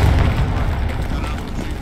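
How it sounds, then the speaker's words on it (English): A loud, heavy boom with a deep rumbling tail, like a rocket blast, dense and close, with no voices over it; rocket explosions in the video game Hell Let Loose. "We just got hit twice by rockets."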